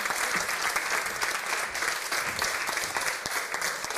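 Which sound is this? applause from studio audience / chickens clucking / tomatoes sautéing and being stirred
applause from studio audience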